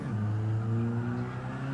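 Gran Turismo 7 car engine during an e-brake drift initiation, played on a wheel setup with a stock car. A steady, close engine hum and whir holds a sustained tone throughout, with no speech.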